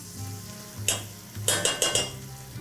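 Tomato paste sizzles in a hot pan while cooking grillades, a steady frying crackle broken by several sharp scraping stirs and clinks of a utensil against the pan, close and fairly loud.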